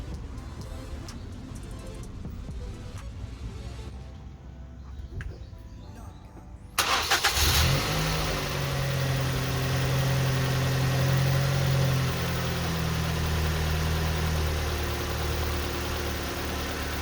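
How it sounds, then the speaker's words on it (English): A 2005 Ford Focus with newly replaced ignition coils cranks and fires up abruptly after a quiet stretch, then settles into a steady, loud, close idle with a low engine hum. "let me go start the car real time, and you'll see if this makes a difference"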